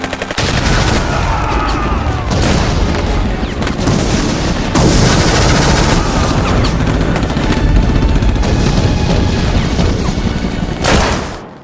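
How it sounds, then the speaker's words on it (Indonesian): Gunfire and explosive booms from a staged battle in an Indonesian historical war drama about the Battle of Ambarawa, with loud dense bursts and crashes filling the whole stretch, without speech. "Pimpinan TKR Letkol Istiman gugur tertembak"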